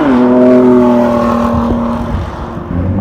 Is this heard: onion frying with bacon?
no